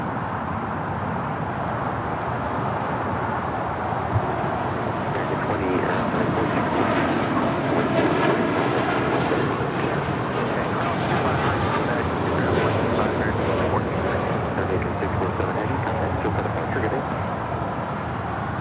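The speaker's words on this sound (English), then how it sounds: "That's Aeromexico 647 taking off to Mexico City on a 787-9 Dreamliner." Aeromexico Boeing 787-9 Dreamliner taking off at LAX, a steady broadband jet engine roar that holds loud and even throughout, with a voice briefly audible over it.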